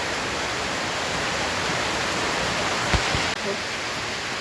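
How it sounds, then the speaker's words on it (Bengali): Heavy rain pours down outdoors as a steady, loud, broadband hiss that stays even from start to finish. A couple of faint knocks sound beneath it. "পুরা বৃষ্টি শুরু হয়ে গেছে দেখো"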